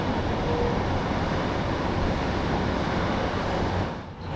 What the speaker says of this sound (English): just been told fast train approach